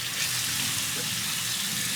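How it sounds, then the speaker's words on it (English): Water runs steadily from a tap into a sink as a face is wetted before a head shave, a continuous close splashing rush with no voices. "Wet my face a little bit."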